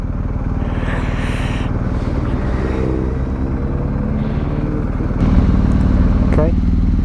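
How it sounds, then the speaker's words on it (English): A motorcycle approaches from behind on a French touring road, its engine droning loud and close with a sharper swell of revving toward the end, heard over the rider's own bike and some talk. "Motorbike coming behind."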